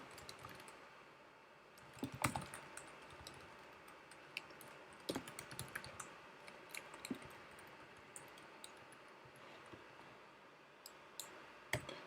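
Computer keyboard typing while filling in form data: quiet, irregular bursts of clicks and taps scattered over a soft background, with no voices.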